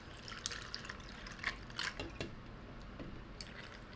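Maker's Mark whiskey is poured over a glass full of ice, giving faint splashing trickles and a few light clinks at close range, with no talking.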